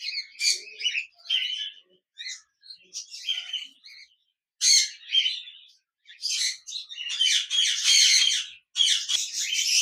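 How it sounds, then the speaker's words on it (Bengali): A pair of large cockatiels kept in a cage at a bird shop give repeated shrill chirps and squawking calls in bursts, close and fairly loud, growing denser toward the end. "এখানে দেখতে পাচ্ছেন এক জোড়া রানিং কোকাটেল পাখি বসে আছে, বিগ সাইজের"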